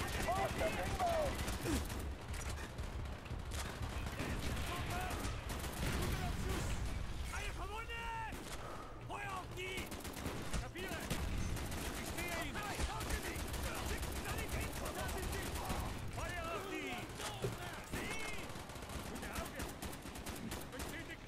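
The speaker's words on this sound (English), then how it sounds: "Mortars inbound. Enemy mortars." Incoming enemy mortar fire and gunfire in the Call of Duty Black Ops campaign: a dense, continuous battle din of rattling gunshots and thumping blasts, with voices calling out over the steady fighting.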